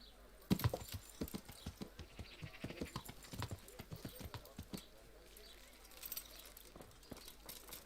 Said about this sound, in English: Learn to ride a horse